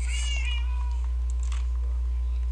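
Several cats in the video game Minecraft meow in short, high calls, one after another at close range over a steady low hum, with no talk.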